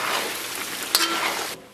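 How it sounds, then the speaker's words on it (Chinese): Pork belly sizzles loudly as it is stir-fried in a pan, a dense, continuous frying hiss with a sharp clink of the utensil midway before the sound cuts off. "30秒钟以后，咱们给它简单的煸炒一下，炒出香气。"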